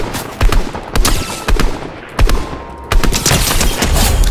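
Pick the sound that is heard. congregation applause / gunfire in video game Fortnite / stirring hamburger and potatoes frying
gunfire in video game Fortnite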